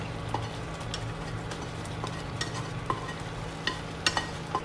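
Egg curry with scrambled egg stirred in simmers in a pan with a soft, even hiss, broken by scattered small pops and light clicks of stirring.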